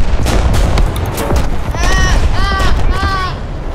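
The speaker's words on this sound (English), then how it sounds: "Artillery fire!" Artillery barrage in the War Thunder video game: several sharp booming impacts crash close and loud in quick succession, followed by three rising whistle-like tones.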